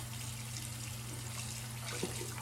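Water trickles steadily as a Soniclear Petite facial brush is rinsed under a tap, a soft continuous flow with a steady low hum and a small splash near the end.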